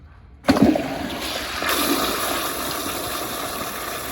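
A 1994 American Standard Cadet toilet is flushed, opening with a sharp lever clunk and rushing water that settles into a steady loud draining and refill hiss, close by with no speech.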